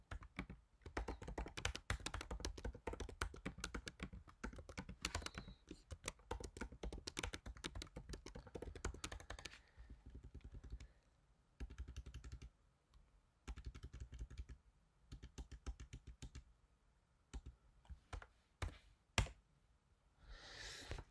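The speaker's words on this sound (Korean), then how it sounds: "464페이지 교재의 마지막 줄에 있는 코드를 한번 타이핑해 보겠습니다." Code is typed on a computer keyboard in rapid, dense bursts of clicking keystrokes, with short pauses between runs and occasional louder taps, close up and with no voices.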